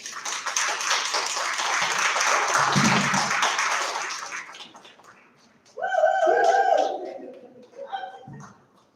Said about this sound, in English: Everybody, round of applause, Brian Cords.